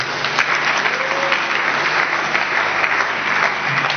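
Steady applause from a large crowd, dense continuous clapping at a loud, even level throughout.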